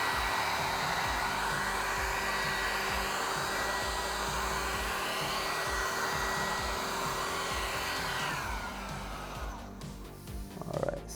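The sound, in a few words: heat gun warming vinyl wrap film on Cybertruck bed side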